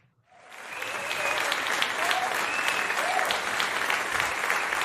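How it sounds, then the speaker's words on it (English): Applause from a crowd at a sports show, following talk of hockey playoffs, rising fast within the first fraction of a second and then holding as a steady, dense wash of clapping to the end, with a few whistles or cheers mixed in. "Yeah, he gets applause."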